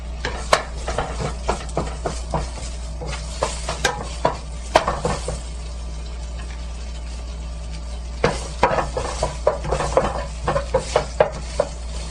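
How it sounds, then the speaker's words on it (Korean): Bellflower root and carrot being stir-fried in a pan over medium-low heat, with a soft sizzle under repeated clinks and scrapes of a utensil against the pan, fairly quiet and close. "도라지와 당근을 볶으실 때는 간이 되게끔 소금을 소량 넣어가면서 볶아줍니다"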